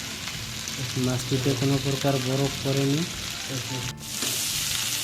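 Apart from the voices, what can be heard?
hilsa fish frying in a pan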